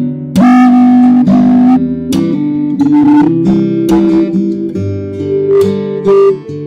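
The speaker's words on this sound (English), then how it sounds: "we can hear unpleasant sound which distorts our track" A fingerstyle guitar track plays with a narrow EQ boost around 400 Hz, giving the loud plucked notes and chords a harsh, distorted, ringing honk.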